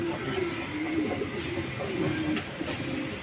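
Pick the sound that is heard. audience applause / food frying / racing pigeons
racing pigeons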